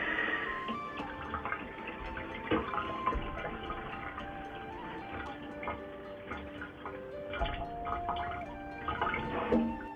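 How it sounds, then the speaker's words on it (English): Rice being washed by hand in water for sushi, with steady sloshing, swishing and dripping and a few sharper clicks throughout, close and moderately loud. "First, we wash the rice."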